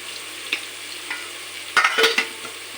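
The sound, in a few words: stirring turmeric frying in oil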